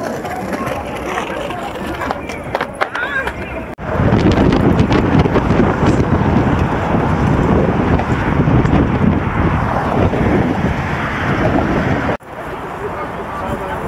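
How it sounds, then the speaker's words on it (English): Heavy wind buffets the microphone in a loud, continuous roar, briefly dropping out twice before surging back. "Pretty windy."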